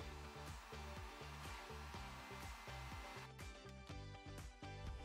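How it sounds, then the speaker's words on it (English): A heat gun plugged into wall power runs steadily, a loud continuous blowing roar with a motor hum that stays constant throughout, no speech. "First, we connect the heat gun to the wall charger and make sure it works."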